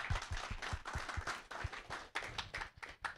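Applause from a small audience at a developer meetup, a few people clapping with distinct, uneven claps for about three seconds, fairly faint.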